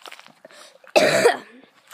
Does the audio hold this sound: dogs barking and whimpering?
no